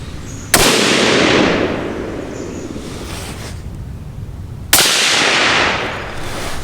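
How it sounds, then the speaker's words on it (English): Two loud rifle shots from a custom Tikka T3x, fired suppressor on and off with a Thunderbeast Ultra 7, each a sharp crack followed by a long rolling echo that fades over a couple of seconds. "I just shot those before and after shots, or I should say suppressor on, suppressor off shots to give you an idea of volume"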